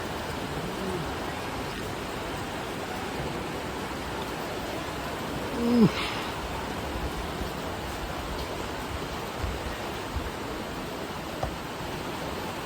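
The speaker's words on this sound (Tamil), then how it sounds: "It's raining." Steady heavy rain hisses evenly at a railway station in Kerala, a dense constant wash of falling water with a brief faint tonal chirp partway through and no speech.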